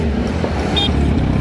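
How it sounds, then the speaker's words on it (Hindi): A Kawasaki Ninja 1000 with a Scorpion full exhaust system revs hard, a loud, dense, continuous engine roar, close and unbroken, with roadside noise mixed in. "So that was a Ninja 1000 with scorpion full system, बहुत ज्यादा लाउड है वो भी।"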